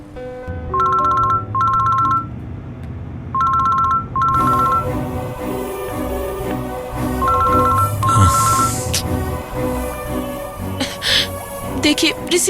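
A phone ringing unanswered on a call, heard as repeated paired ring tones in short bursts that start and stop over movie background music, with people talking and breathing.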